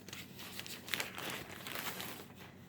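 A pretty decorative bag is carefully cut down for reuse, producing soft close crinkling and rustling of the material with a few brief sharper snips.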